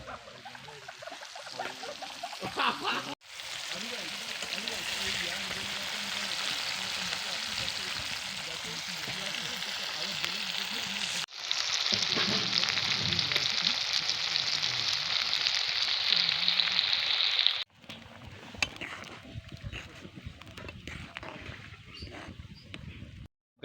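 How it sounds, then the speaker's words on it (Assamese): Paneer fries in a pan in a home kitchen, a continuous crackling sizzle broken into several stretches by abrupt cuts, louder in the middle segment and fading to quieter background sounds near the end. "তো এতিয়া পনীৰ ভাজি আছোঁ।"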